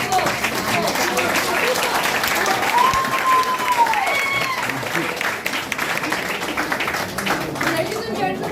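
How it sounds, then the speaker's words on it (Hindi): Audience applause at a Modicare business-building seminar, a dense steady wash of many hands clapping throughout, with a voice talking briefly over it midway. "आप ताली बजा रहे हो"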